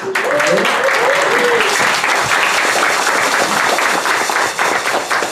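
Dense applause from the audience at an official swearing-in ceremony for a state Indigenous rights council, loud and sustained throughout, with a voice heard briefly near the start.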